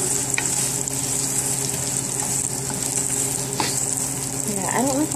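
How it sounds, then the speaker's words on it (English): Onions sizzle steadily in a hot pan for a beef and bok choy stir fry, a close, continuous crackling fry with a few clinks and scrapes of stirring. "We'll just cook it until the onions get a little soft before we add the egg."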